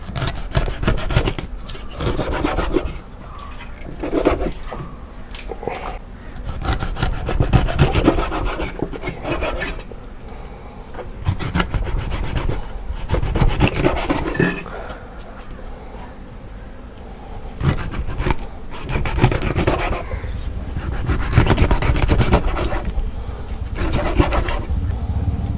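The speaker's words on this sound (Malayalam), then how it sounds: "അപ്പോൾ നമുക്ക് അടുത്ത മീനും ഈ കാണുന്ന പോലെ ചെതമ്പൽ കളയാം." Repeated rasping strokes of a knife scraping scales off small fish for a fish curry, coming in close, steady bursts throughout with brief pauses between passes.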